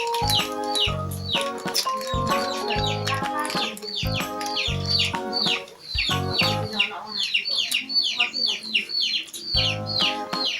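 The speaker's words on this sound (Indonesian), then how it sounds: "maaf ya kalau ada suara ayam" Loud, close chickens cluck repeatedly in rapid bursts, with clipped fowl calls continuing steadily throughout; a voice is heard briefly near the start.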